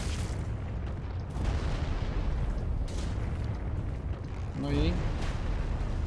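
An enemy fires at the player in Dark Souls 3: Ashes of Ariandel, with a few sharp bursts cutting through a dense, noisy game soundscape while someone talks over it.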